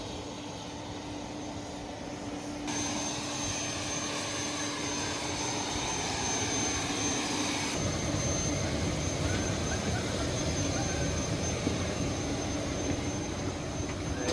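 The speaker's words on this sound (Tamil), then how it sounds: "இந்த ஃப்ளைட்டில் ஏறி நாம் மறுபடியும் போவோம்." Steady broadband roar of a jet airliner in flight, heard from inside the cabin, continuous and fairly loud with a constant engine hum and a slight rise in level partway through.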